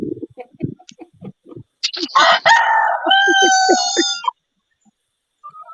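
A bantam hen among chickens clucks and squawks loudly nearby, following a rising crow-like run of calls, with people talking casually before and around the birds.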